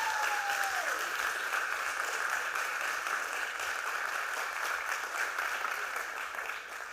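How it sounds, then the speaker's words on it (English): Sustained, steady applause from a youth town hall audience fills the whole stretch, dense and even in loudness with no voices rising above it. "So I want you to clap one more time for PUMPA."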